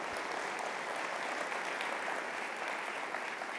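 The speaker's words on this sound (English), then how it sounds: "let's give that a round of applause" Applause from an audience at a school presentation, a steady, fairly faint wash of clapping heard from a distance with no voices.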